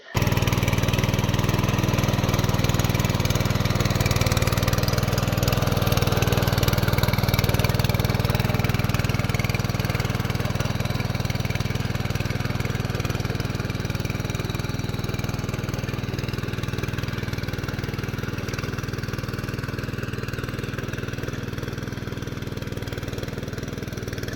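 A loud tractor engine drones steadily while tilling a field to loosen soil, a constant mid-pitched hum that eases slightly in level toward the end.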